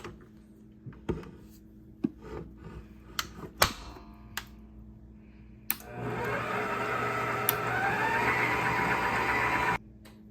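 An electric mixer whirs loudly and steadily through peanut butter bread batter with milk and creamy peanut butter, starting after several sharp clicks and knocks and running for about four seconds before cutting off.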